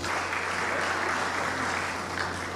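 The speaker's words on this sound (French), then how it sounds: "Et je voudrais qu'on l'acclame, mesdames et messieurs." Sustained applause from an audience at a Gabonese commemoration ceremony: dense, even clapping from a large crowd that fills the whole moment without a break.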